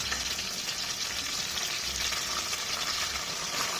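Chopped onions, green chilies and curry leaves fry in oil in a pan toward light brown for a coconut milk chicken curry, giving an even, unbroken sizzle close by with no talking.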